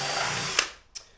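A power drill boring a hole through wood whirs steadily and loudly, then winds down, with a couple of sharp clicks as it stops.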